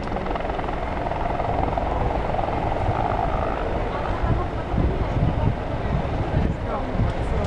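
Firefighting helicopter with a filled Bambi bucket at a fire brigade display in Chlum u Třeboně, its rotor and engine roar loud and steady throughout, close by and continuous.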